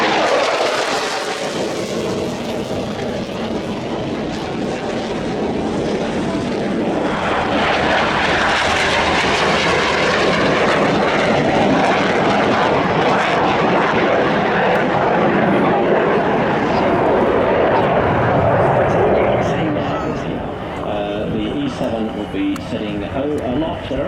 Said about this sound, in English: We have a Poseidon coming in from the right.